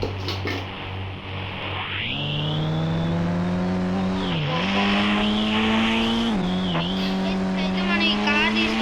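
A car in the Indian Bike Driving 3D video game accelerates with a rising engine whine that dips and climbs again through gear changes, with tire squeals, played loud and close.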